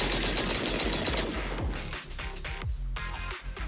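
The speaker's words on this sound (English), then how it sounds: "That was the sound of a heavy cannon?" Heavy cannon fire in a video game, a dense barrage of booming blasts and crashes that pound loudly in rapid succession, thinning briefly before resuming, with no talk over it.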